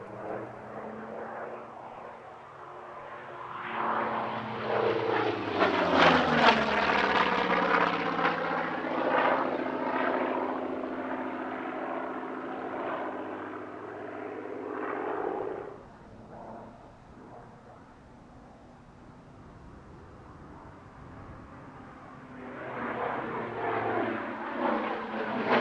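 A propeller aircraft flies a solo airshow display, its engine drone rising to a loud pass with a falling Doppler pitch, easing off into a quieter distant hum, then building again as it returns.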